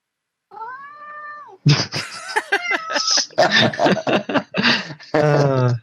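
A house cat meows loudly and close: one drawn-out meow, then a run of insistent, chattering yowls, with a person's chuckles and talk mixed in.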